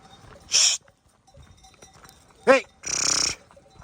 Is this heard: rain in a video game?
no